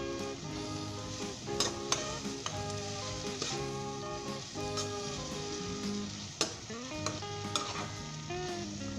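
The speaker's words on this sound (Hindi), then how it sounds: "दोस्तों 2 से 3 मिनट तक हम इसे अच्छे तरीके के साथ हाई फ्लेम के ऊपर मिक्स कर लेंगे" Chopped onion, tomato, green chili and ginger stir-fried on high flame: a loud continuous sizzle broken by repeated clinks and scrapes of a spoon against the pan.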